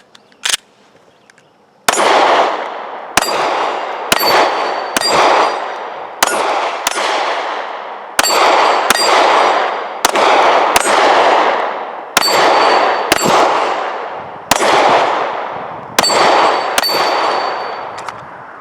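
An HK VP9 pistol fired at steel targets, about fourteen loud, evenly spaced shots, each followed by a ringing metallic clang that decays before the next, with no talking.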